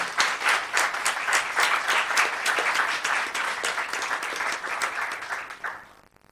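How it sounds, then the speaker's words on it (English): A town council meeting audience gives a round of applause, dense steady clapping with some louder individual claps, fading out sharply near the end. "And another round of applause."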